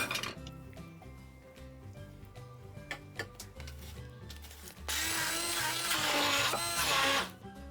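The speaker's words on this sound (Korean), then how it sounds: "블렌드로 갈아줍니다." A blender grinding arugula, garlic, toasted almonds and olive oil into pesto, a low uneven churning that jumps into a loud, steady high-speed whir for a couple of seconds before dropping off.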